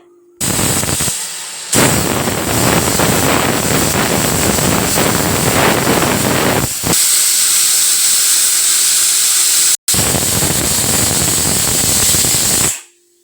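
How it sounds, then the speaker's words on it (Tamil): A pressure cooker on a gas stove whistling as it cooks lentils for drumstick-leaf sambar, giving long, loud, close hissing blasts of steam separated by brief pauses. "ஒரு அஞ்சு விசில் வரட்டும்"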